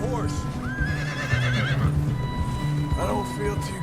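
A horse in Red Dead Redemption 2 whinnies loudly with a wavering, rising neigh, then a second shorter whinny follows, over a busy background of rumbling noise and movement.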